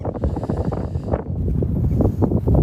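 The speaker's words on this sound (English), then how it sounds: "now you can hear that wind, so you can see how I'm suffering" Wind gusts across a lake during carp fishing at Decoy Lakes, Whittlesey, buffeting the microphone with a loud, continuous rumbling roar that swells and eases.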